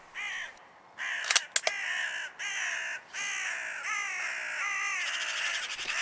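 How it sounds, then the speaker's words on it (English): Agitated crows caw repeatedly after a .22 Magnum rimfire shot, with harsh, fairly close calls in irregular bursts and a few sharp clicks early on. "as you can hear, this really got the rest of the birds quite riled up"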